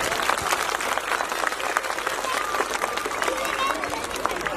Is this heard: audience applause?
yes